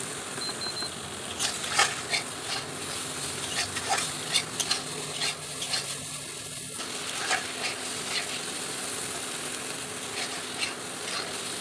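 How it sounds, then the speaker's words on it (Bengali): Potato and papaya pieces, seasoned with salt and turmeric, fry in a pan while being stirred, a constant soft sizzle broken by repeated scraping and tapping of the spatula. "এখন দিয়ে কিছুক্ষণ নেড়ে চেড়ে ভাজা ভাজা করে নেব।"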